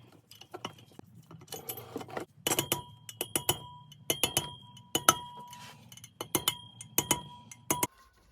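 Small metal valve keepers clink into place on the valve springs of a Toyota 2AR-FE engine during a rebuild, a string of sharp, close metallic ticks and taps coming in short irregular clusters.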